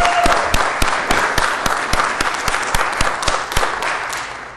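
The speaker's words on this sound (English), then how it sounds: "How about a round of applause to kick things off this morning?" Loud, steady clapping from a small group at the Nasdaq opening bell ceremony with UFC fighters, sharp individual claps standing out over dense applause throughout.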